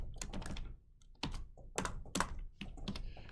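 A computer keyboard being typed on in short bursts of clicky keystrokes, with brief pauses between bursts as a password is entered; fairly close and clear with no talk.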